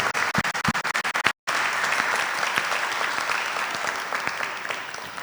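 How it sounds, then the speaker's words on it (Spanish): Seminar audience applauding panelists: a few distinct close claps, a brief gap, then broad sustained clapping from the room that slowly fades, no voices. "les pido un gran aplauso para nuestros panelistas"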